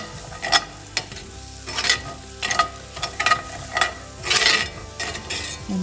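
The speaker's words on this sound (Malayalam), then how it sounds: "ഇത് ചേർത്ത് നന്നായിട്ട് ഇളക്കിയെടുക്കണം." Chicken masala with onion is stirred and fried in a pan, a spoon scraping in steady repeated strokes over a continuous loud sizzle, close up with no voices.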